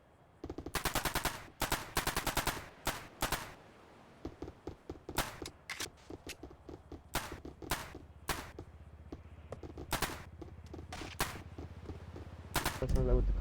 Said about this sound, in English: That sounds like with the combat pistol.